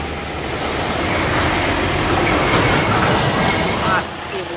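A train moves through Lucknow railway station with a loud, continuous rumble and rolling wheel noise, steady throughout and close by, easing slightly near the end.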